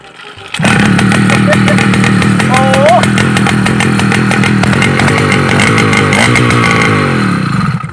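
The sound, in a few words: 49cc motorized bicycle engine with loud straight exhaust pipe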